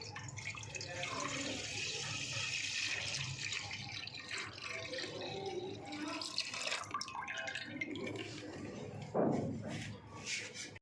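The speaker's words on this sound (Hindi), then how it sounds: "एक देचका ले लेंगे और उसमें दूध डाल देंगे।" Milk poured into a cooking pot for homemade yogurt, a continuous splashing liquid pour with dripping near the end, heard close up under faint background noise.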